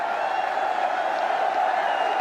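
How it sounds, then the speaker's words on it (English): Cricket crowd in a stadium cheering loudly at an India versus Australia one-day international, a dense continuous roar from a distant mass of spectators, with no speech over it. "Big cheer here."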